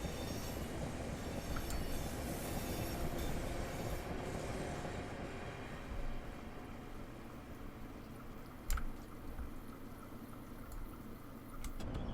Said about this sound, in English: Train is ready to depart.